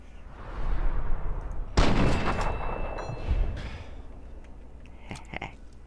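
A big gun fires in Fallout 3, one loud booming blast with a rumbling tail after a rising whoosh, followed by a smaller thud and a few faint distant clicks.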